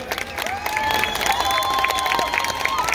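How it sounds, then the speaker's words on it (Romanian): An audience applauds dancers at an evening outdoor festival performance, steady crowd clapping and some cheering filling the three seconds, with tonal music lines running over it. "aplauze pentru ei!"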